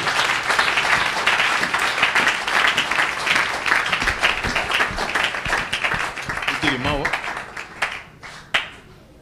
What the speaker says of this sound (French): Venez, venez sous les acclamations du peuple de Dieu